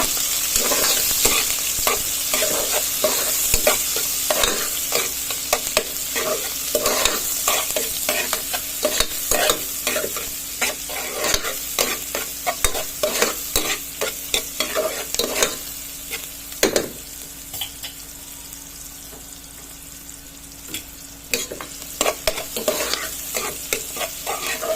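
Garlic and onion sauté in a hot pan for a Filipino banana heart dish, with a steady sizzle and frying hiss running throughout. Frequent scraping and clacking from stirring come in irregular bursts, close and fairly loud.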